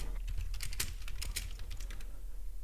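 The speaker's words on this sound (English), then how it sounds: "And what you hear is typing." Quiet, close typing on a computer keyboard during a live day-trading session, with irregular bursts of clicking keystrokes over a low background hum and no talking.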